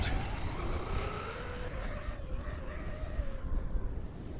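A Traxxas Slash 4x4 RC truck drives on a big sand dune, its electric motor whining and rising and falling in pitch over a constant rush of wind and rolling noise.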